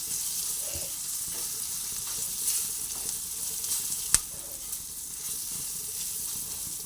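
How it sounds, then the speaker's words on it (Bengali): Spices and chopped ginger fry in a hot pan with a steady, close sizzle that carries on without a break. A single sharp click stands out partway through. "সে আদাটা দিলাম মশলাগুলো ভালোভাবে ভেজে নিচ্ছি"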